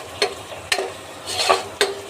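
Pulihora tamarind rice being stirred in a pan, with four or five distinct scraping strokes of a spoon against the metal, close and fairly loud, over a faint background sizzle.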